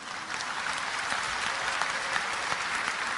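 An audience at a talk on Islam and the Bible breaks into steady applause, a dense, even crackle of many hands that holds throughout at moderate loudness with no speech over it.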